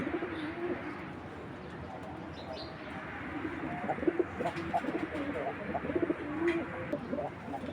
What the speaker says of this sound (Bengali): একেবারে খুবই সুন্দর এক জোড়া চুইনা কবুতর